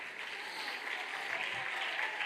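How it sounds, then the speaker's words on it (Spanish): A church congregation at a Sunday closing service in Aruba claps steadily throughout: dense, even applause at a constant level with no pauses. "Aplauda lo que Él se está moviendo."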